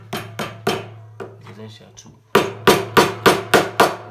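Hammer blows while an industrial weaving machine, model 737/747/757, is being assembled: a few sharp strikes, a pause with a brief spoken word and light clatter, then a steady run of six loud, evenly spaced hits over a low hum.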